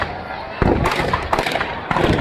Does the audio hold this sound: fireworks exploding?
yes